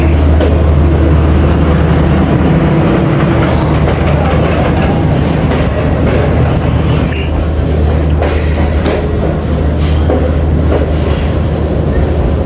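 A Pakistani Awam Express passenger train, heard from inside a new CRRC AC standard coach, runs with a loud, steady rumble and continuous wheel clatter throughout.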